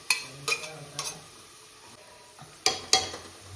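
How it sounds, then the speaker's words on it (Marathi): Ginger garlic paste frying in a pan with browned onion for pav bhaji, a soft steady sizzle under several sharp clanks of a spoon stirring against the pan, close by, no talk. "तर आपण त्यात घालूया आलं लसणाची पेस्ट"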